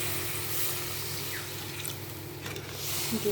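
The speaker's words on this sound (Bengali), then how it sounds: "এর মধ্যে একটু জল দিয়ে দেবো" Water trickles and splashes from close by as it is poured into sour yogurt, a soft continuous wash of liquid sound with faint bumps near the end.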